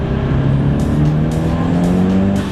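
A car engine fitted with solid poly engine and transmission mounts accelerates loudly from about 2,300 RPM. The drone rises steadily and stays close and dominant, with no speech.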